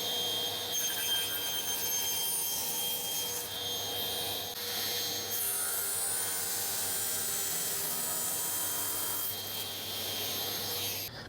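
A table saw cuts through a piece of wood for a simple box lid, a loud, continuous whining roar that holds steady for the whole stretch with no speech.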